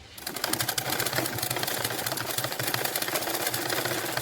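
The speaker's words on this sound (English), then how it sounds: "I'll be top stitching with the same allowance of 3 millimeters or 1/8 of an inch right along this curve" A sewing machine topstitches a 3 mm (1/8 inch) allowance along a folded, curved edge of a sewing project's front panel, making a close, steady, rapid mechanical whirr with a fast stitch rattle throughout and no voices.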